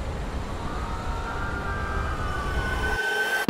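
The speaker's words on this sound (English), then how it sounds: "I have introduced space wind sounds, crowd in the background, and also a riser in the background." Intro sound design layering space wind, a background crowd and a riser: a continuous airy rumble with a faintly rising tonal whine, dropping out near the end before a brief sharp hit.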